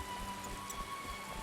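Steady hiss of heavy rain in the video game The Witcher, a continuous even wash with no voices over it.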